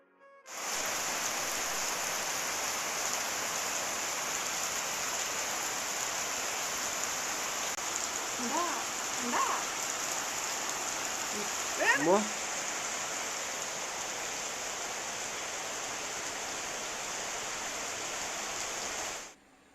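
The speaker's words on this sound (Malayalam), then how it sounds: "മഴ കാരണം പുഴ നല്ല കുത്തിയൊഴുകി പോകുന്നു" Heavy rain pours at a lakeside resort in Alappuzha, Kerala, as a dense, unbroken hiss that fills the whole stretch. Faint voices surface briefly around the middle.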